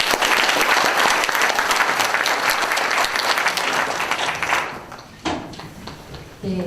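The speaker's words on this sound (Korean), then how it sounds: "한번 큰 박수 부탁드리겠습니다." Audience applause fills a book concert hall, dense and loud for several seconds, then thins toward the end as the clapping tapers off.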